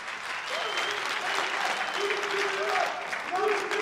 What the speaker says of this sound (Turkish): insanlar seni alkışlıyorlar